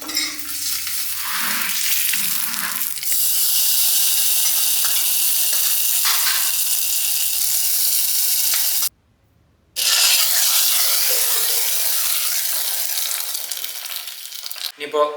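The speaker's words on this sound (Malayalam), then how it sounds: "അതിൽ ഇതാ കടുകും വറ്റൽമുളകും പിന്നെ ഇതാ തേങ്ങ കുറച്ച് ചിരവിയത് അത് നല്ല പോലെ വഴറ്റിയിട്ട്" Tempering for jackfruit erissery, mustard seeds, dried red chillies and grated coconut sautéing in hot oil, a loud close sizzle with stirring, cut by a brief silent gap before the frying resumes.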